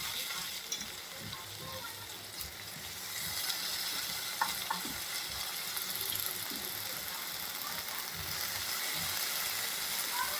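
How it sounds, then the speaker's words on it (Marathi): Chopped wild monsoon greens (telpat) hit a hot oiled pan, giving a continuous soft sizzle and frying hiss with light stirring scrapes, fairly quiet and steady throughout. "चिरलेली भाजी आपण टाकायची त्याच्यात."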